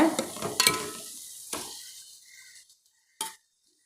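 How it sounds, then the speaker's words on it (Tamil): Curry leaves and tomatoes sautéed in a pan, a brief burst of sizzling with spoon scrapes that fades out, followed by a lone clink near the end. "நல்லா வதக்கிக்கோங்க"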